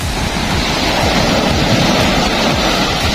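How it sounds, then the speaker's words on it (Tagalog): Loud, dense crashing surf roars continuously, heavy ocean waves churning close by at high tide with wind rushing over the microphone. "laki na ng alon. Ah, At saka high tide."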